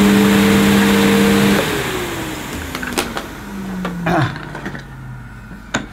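Sebo Airbelt C2 canister vacuum cleaner motor whirs loudly with a steady whine, then cuts off and spins down in a falling tone, followed by scattered handling knocks nearby.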